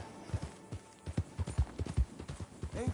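Hooves of a horse in Red Dead Redemption 2 clopping in an uneven walking rhythm, a steady run of soft, close thuds with a brief higher whinny-like sound near the end.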